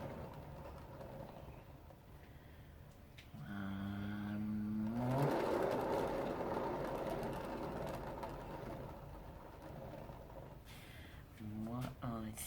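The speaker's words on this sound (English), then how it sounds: "so I have got this on my spinner, so I am going to give it a spin" A paint spinner whirring up for a swipe painting, a low motor hum that rises into a steady spin for several seconds before winding down, with brief talk at the start and end.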